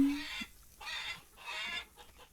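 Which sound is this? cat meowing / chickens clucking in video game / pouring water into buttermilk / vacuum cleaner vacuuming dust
chickens clucking in video game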